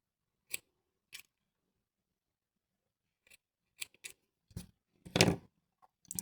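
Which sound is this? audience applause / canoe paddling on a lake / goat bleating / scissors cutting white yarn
scissors cutting white yarn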